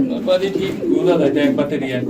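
Blue barless pigeons coo at a pigeon farm, soft throaty cooing close by, mixed with someone talking over it.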